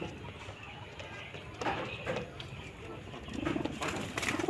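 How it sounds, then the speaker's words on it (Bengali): Female pigeons cooing inside their coop, soft repeated low coos over a rustling, busy background, growing a little louder toward the end. "এখানে হচ্ছে আমাদের মাদি কবুতরগুলা ফিমেল যে কবুতরগুলা এখানে হচ্ছে ফিমেলগুলা"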